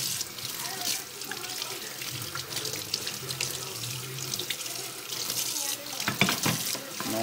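Tap water runs steadily into a sink while a razor is rinsed under it, a continuous close splashing with small irregular bursts and clatters.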